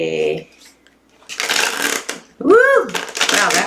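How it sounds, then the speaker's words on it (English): Tarot cards shuffled during a reading, bursts of riffling and flicking card noise across the clip, broken by a short pause, with voices talking over parts of it. "I'm not taking it because I'm not done shuffling yet"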